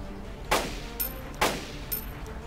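Two sharp rifle shots in the DayZ survival game, sounded about a second apart, each a loud crack followed by a short echoing tail, heard alone without talk.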